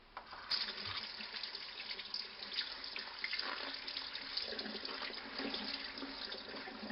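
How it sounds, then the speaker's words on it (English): Tap water running steadily into a sink while black olives are rinsed, a soft continuous splashing hiss with faint clinks and no talking. "I'm rinsing these olives now."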